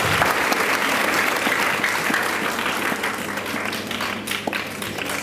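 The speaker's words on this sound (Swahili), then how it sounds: "Hongereni, jipigeni makofi sana." Steady applause from an audience at a Tanzanian education ministry competition event, dense clapping throughout that eases a little near the end.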